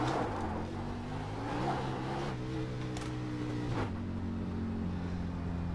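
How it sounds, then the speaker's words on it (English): A race car in the iRacing game idles and drones with a low engine hum, pitch wavering and briefly rising, fairly quiet and steady throughout with no talking. "find first gear again and do a burnout."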